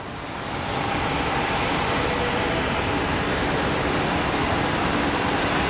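A WestJet airliner bound for Calgary at Phoenix Sky Harbor airport gives a steady, loud broadband jet roar that swells in the first second and then holds evenly throughout.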